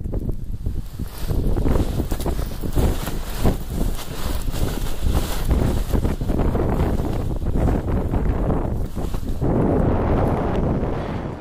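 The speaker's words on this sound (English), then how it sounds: "Now I'm gonna play it with sound just so you can hear the wind" Wind roars and buffets steadily past the microphone during a paragliding full stall, a loud, continuous rushing that surges and flutters for the whole stretch with no voices.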